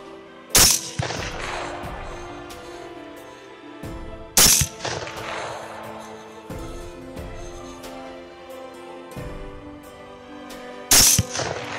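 Three loud, sharp rifle shots during a thermal-scope night hog hunt, each crack followed by a long echoing tail and spaced several seconds apart, with a quiet steady hum between them.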